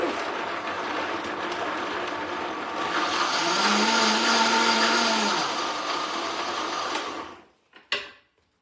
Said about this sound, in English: What we are going to do is we are going to blend this very coarsely.